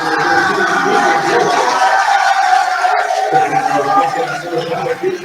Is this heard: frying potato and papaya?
no